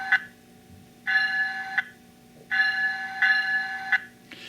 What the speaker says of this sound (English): when I turn the e-bell off, no matter where it is through its cycle, it will stop